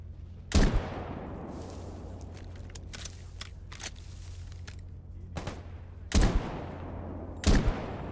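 MP9 submachine gun fired on automatic in S.T.A.L.K.E.R. GAMMA, heard as a few sharp, loud bursts separated by long stretches of rumbling ambient game noise.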